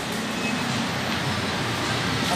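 Metro Manila MRT3 train noise: a loud, steady rumble of rolling rail cars fills the space continuously, dense and close, with no clear talk over it.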